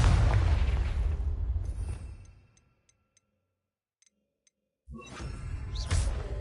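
Explosion spells Bombarda and Confringo cast in Hogwarts Legacy: a loud blast rumbling down into silence with a few faint ticks, then a second sharp burst followed by crackling, rushing debris.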